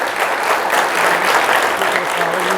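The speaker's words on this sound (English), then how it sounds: "Please give them a round of applause for all the work" Audience applause at an employee and officer of the month breakfast, a steady, dense wash of clapping from a room full of people, loud and sustained throughout the short stretch with a faint voice underneath.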